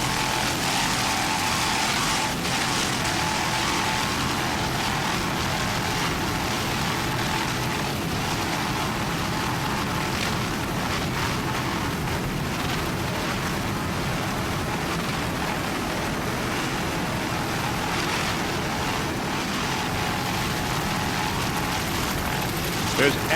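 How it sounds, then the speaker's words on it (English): A 37-foot Outer Limits powerboat with twin 500 hp Mercury inboards and MerCruiser drives roars past in a race, a broad, rough engine drone, loud and sustained, under continuous commentary. "37-foot outer limits powered by two 500 horsepower Mercury inboards with Mercruiser drives"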